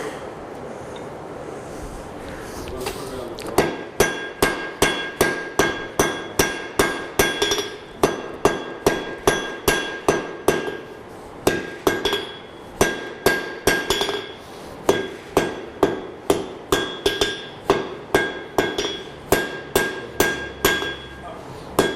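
A hammer strikes heated metal pieces on an anvil for a forge weld, sounding as dozens of loud, ringing blows in a steady rhythm with short pauses between bursts.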